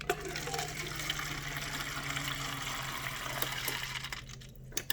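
Water gushes and sputters with air from a refrigerator dispenser into a cup just after a filter change, a steady close rushing flow that cuts off near the end, with no talking.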